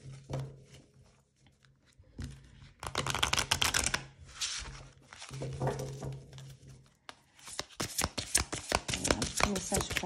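Oracle cards are shuffled by hand in bursts of rapid riffling patter with pauses between, close and crisp, while a soft voice speaks briefly in the background.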